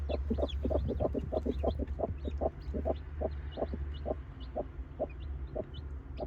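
Hens cluck steadily in a brooding pen while newly hatched chicks are still emerging, a close series of soft, regular clucks over a low constant hum.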